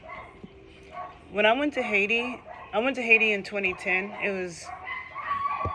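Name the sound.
stray dogs barking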